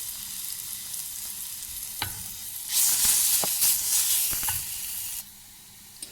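Garlic sautéing in oil for a pizza base sauce, a steady sizzling hiss that swells louder midway, with a few light clinks from stirring, and no talking.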